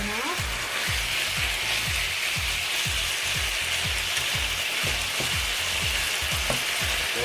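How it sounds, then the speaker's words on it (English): Lemongrass chicken sizzles steadily in a hot pan, with a spatula scraping and stirring in quick repeated strokes throughout, close and loud with no talking. "We just need to keep stirring it until it's cooked enough."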